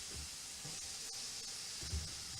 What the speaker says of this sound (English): now I'm going to put the other half of the onion in the pan with the sunflower oil